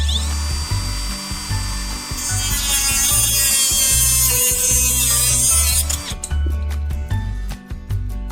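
A 3/4-inch rail is cut in a woodshop with a power tool, giving a loud, continuous whining motor with a shifting pitch, then a run of rapid regular clicks as it winds down.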